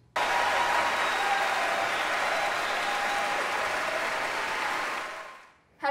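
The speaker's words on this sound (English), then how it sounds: "Have you ever cheered like this before?" A concert audience cheers and applauds loudly in a dense, steady roar that holds for several seconds before tapering off, with no speech over it.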